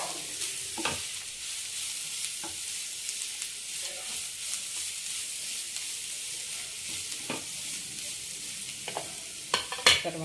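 Ingredients fry lightly in a pan for moong dal charu, a low, even sizzle broken by occasional sharp scrapes and taps of stirring.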